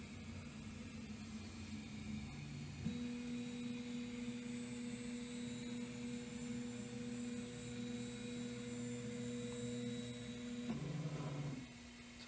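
A Dremel Digilab 3D45 3D printer, paused mid-print, whirs and hums as its motors drive the head to the home position, with steady whining stepper tones that shift partway through and stop near the end, no talking.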